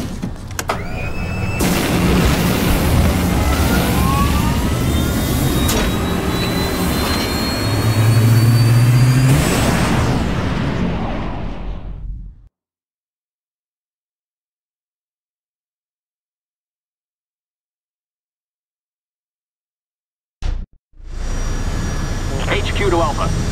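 In the video game Resident Evil 6, an aircraft's jet engines spool up into a loud, rising whine and roar. The roar cuts to several seconds of silence, then resumes abruptly.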